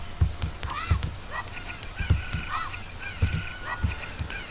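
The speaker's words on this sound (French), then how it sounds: "Une poule." Repeated squawking chicken calls with a honking quality in The Legend of Zelda: Ocarina of Time, several short cries over a steady low background with faint thumps.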